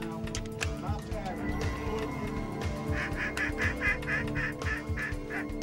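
Mallard ducks quack in a rhythmic series of repeated calls in the second half during a duck hunt outdoors, heard over steady background noise with hunters talking throughout.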